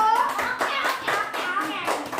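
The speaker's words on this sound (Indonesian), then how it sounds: "Ya, tepuk tangannya dulu untuk kelompok 1." Classroom students clapping together for a group, a brisk round of rhythmic hand claps, close and loud, with children's voices mixed in.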